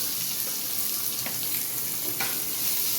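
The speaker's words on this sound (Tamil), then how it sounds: "இப்போ நம்ம கட் பண்ணி வச்ச வெங்காயம் எல்லாத்தையும் போட்டுடலாம்" Chopped onions frying in a pan for a Tamil siru keerai poriyal, a loud continuous sizzle broken by a couple of sharp scraping stirs, with no one speaking.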